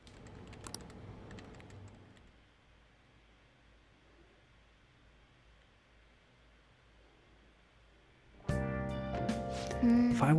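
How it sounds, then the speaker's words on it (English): Fast typing on a computer keyboard in the video game Persona 5 comes as a faint, steady patter of rapid key clicks under a quiet hiss, with louder game sounds cutting in near the end. "She types at the keyboard very fast and all."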